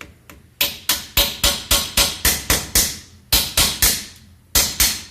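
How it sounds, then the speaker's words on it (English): Sharp metallic hammer strikes driving a putty knife between a Jeep Cherokee's hub and steering knuckle, in quick, even bursts: about nine blows, a pause, then three more and two more, loud and close. "take a putty knife and try to wedge it in between the two with a hammer"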